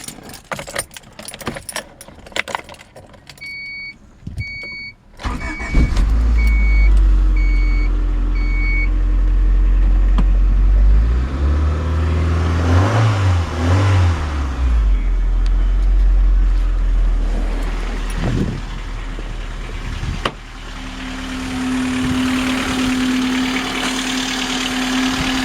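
A 1988 Honda Accord LX-i coupe in need of a valve adjustment, keys jangling first, then the engine cranks, catches and settles into a loud, steady idle that runs to the end with small shifts in pitch.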